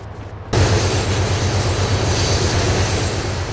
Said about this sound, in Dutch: We volgen nu de trein van Twello naar de visserijhaven.